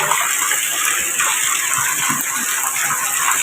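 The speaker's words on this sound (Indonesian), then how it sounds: "ini pancuran telaga" Water gushes steadily from a pond spout at night, a loud, continuous splashing rush with no break.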